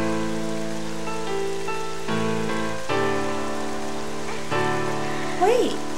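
Steady rain falling in the video game The Legend of Zelda: The Wind Waker, a constant soft patter heard alone at moderate loudness beneath sustained musical tones, with a brief rising sweep near the end.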